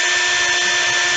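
A power drill boring holes into melted plastic buttons, a steady, loud, high-pitched whine held throughout the short stretch with no pauses and no talk.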